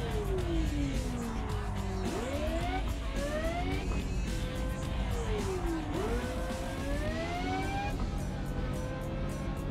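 Formula-style electric race car in the Flatout 3 racing game, its motor whining in sliding pitch sweeps that climb and drop with each speed change, loud and continuous over a low rumble, no voices.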